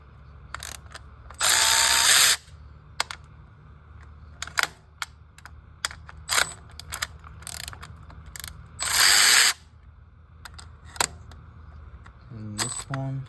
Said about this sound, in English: Move all these bolts right here.